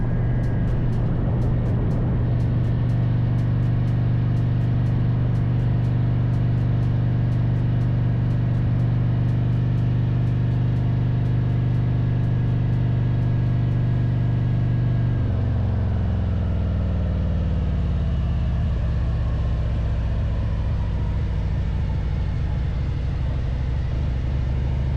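A Harley-Davidson CVO motorcycle with a Trask clutch plate rumbles steadily for about fifteen seconds of riding, a deep continuous engine drone with wind rush, then the engine note drops and fades away as it slows.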